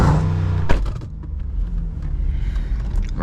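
An SRT Jeep with a mid muffler delete revs once sharply, then settles into a deep, rumbling idle heard up close and alone.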